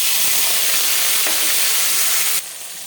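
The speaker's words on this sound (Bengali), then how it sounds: "অল্প তেল সাদা তেল দিচ্ছি দিয়ে দেবো কেটে রাখা পেঁয়াজ" Chopped onion dropped into hot white oil in a kadai gives a loud, dense, continuous sizzle that stays close and steady before dropping to a quieter hiss near the end.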